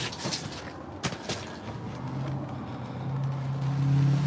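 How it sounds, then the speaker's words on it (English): Steady rushing wind gusts buffet the microphone on a rainy-day fishing outing in Ontario, with a couple of sharp knocks early on and a low engine drone rising near the end. "Oh yeah, we got some gusts."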